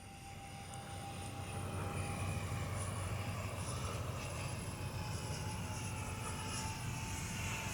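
An X-Fly C-17 Globemaster RC model jet on its maiden flight drones steadily overhead before landing, a continuous engine roar with a thin high whine that holds at an even level throughout.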